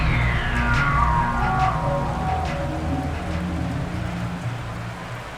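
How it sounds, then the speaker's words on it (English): Rain hisses steadily during an NFL football video game between the Steelers and Jaguars, a broad constant wash heard alone under a falling whistle-like tone at the start. "The rain set to continue as we are underway"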